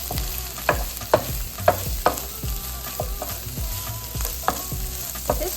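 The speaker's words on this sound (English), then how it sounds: "We're going to add our 2 to 3 garlic cloves minced. Stir that up for 30 seconds to a minute." Minced garlic cloves fry in a hot pan while being stirred, with a steady sizzle and repeated scraping strokes of the utensil in an irregular rhythm, close and moderately loud, no voices.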